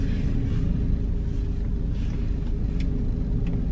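Steady low rumble of a car cruising along a quiet, empty road, engine and tyre noise constant and close from inside the cabin, with no talking.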